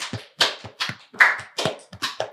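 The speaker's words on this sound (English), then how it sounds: "Round of applause for Star of the Week." A few people clap in a small podcast studio. The claps are sharp and close, spaced in an uneven rhythm about every half second, with no talking over them.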